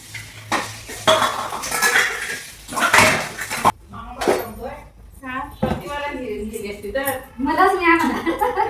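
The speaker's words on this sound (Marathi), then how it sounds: "भांडी घासून घेते." Steel dishes and utensils are scrubbed and washed with loud clattering and clanking at first. A voice then talks over occasional clinks of metal.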